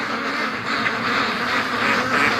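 A flock of Muscovy ducks quacks steadily for the whole stretch, a dense, continuous chatter of overlapping calls at moderate loudness with no clear pauses.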